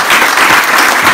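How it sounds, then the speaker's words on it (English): Dense, loud audience applause at the close of a panel Q&A session on apartment syndication, a continuous wash of many hands clapping close by with no talking. "A big round of applause"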